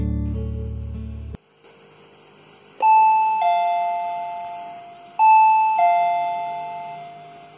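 A wireless doorbell plays two clear two-tone ding-dong chimes, each ringing out and fading, after a low hum cuts off; no talking.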